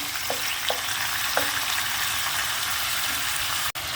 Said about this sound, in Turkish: şöyle zeytinyağında etimizi bir mühürlüyorum